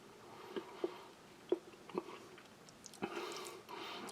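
Very dry raisins from a Taiwan army Type C combat ration are chewed close and quietly, with several soft sticky bites and smacks spaced irregularly over a faint background.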